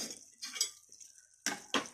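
Dishes and cutlery clink and clatter in a few sharp bursts separated by quiet, close and fairly faint, as cooked food is served in a home kitchen.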